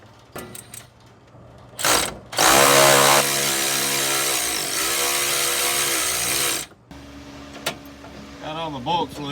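Power tool loosening bolts on the smog air pump of a Toyota 20R engine, a loud sustained whirring burst of about four seconds, with quieter workshop noise and brief speech-like sounds before and after.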